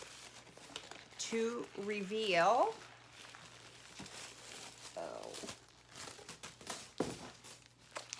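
Tissue paper crinkles and rustles in bursts while a Chanel 19 large flap bag in black goatskin leather is unboxed, with someone talking close by over the handling sounds.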